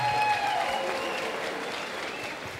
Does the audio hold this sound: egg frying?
no